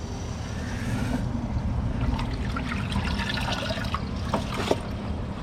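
A 2025 Kohler Highline Pressure Lite toilet flushing, a continuous rushing of water with a low steady roar and a few gurgles, heard close and fairly loud throughout with no speech.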